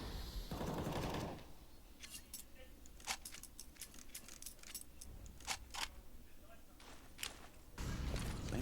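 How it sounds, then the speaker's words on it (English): Gunfire in CS:GO during a Natus Vincere versus Fnatic match at IEM Katowice 2020, scattered sharp distant shots in short irregular bursts, faint beneath a low background with louder broadband noise at the start and end. "The fact he's fired shots there"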